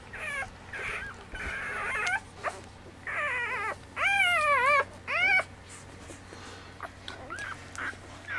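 A blue merle puppy in a litter whimpers and yips in a series of high, wavering cries, some short and some drawn out, fairly close over a quiet room hum.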